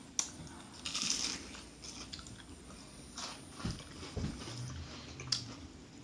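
Crunchy fried green tomatoes being bitten and chewed up close, a few crisp crunches of the coating followed by quieter mastication in a hushed room.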